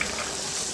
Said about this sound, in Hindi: तो पहले पैन के अंदर मैं भिंडी ऐड कर रही हूँ।